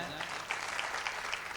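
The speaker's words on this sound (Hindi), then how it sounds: "आप देखिए भाई साहब के लिए जोरदार तालियां बजाएं" An audience at a kavi sammelan poetry event applauds, a steady spread of clapping with scattered sharper individual claps, held at a moderate, slightly distant level throughout.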